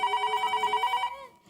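A telephone bell rings in a home with a rapid repeating electronic trill for about a second, then cuts off, fairly quiet and alone.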